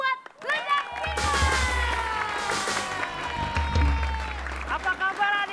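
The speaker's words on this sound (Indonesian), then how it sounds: "tepuk tangan dulu buat Ledak Cinta" Children's applause and clapping for the performers Ledak Cinta fills the room, a steady patter under loud, lively voices of a host and kids speaking over it.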